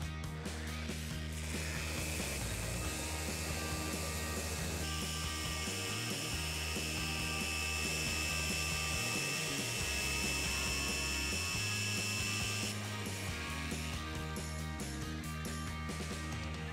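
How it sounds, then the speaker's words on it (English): A power sander with 80-grit paper whirs continuously against a live edge wood slab, a steady grinding drone with a high whine that shifts partway through, close up and without speech. "So I'm gonna sand it all down to 80 grit"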